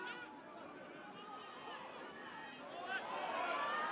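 A rugby crowd at an under-20 Wales versus France match shouts in protest over a forward pass, a broad roar of many voices that swells toward the end, heard at a distance.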